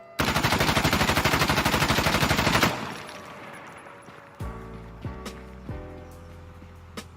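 Rifle fire in Insurgency: Sandstorm, a loud rapid automatic burst of closely spaced shots for about two and a half seconds, then a reverberant tail with a few clicks and mechanical clanks of weapon handling.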